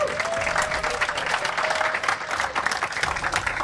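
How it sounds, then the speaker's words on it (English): A crowd at a live esports grand final for C&C Generals Zero Hour claps steadily and loudly for several seconds, a dense continuous patter of applause without speech. "Let's have a round of applause."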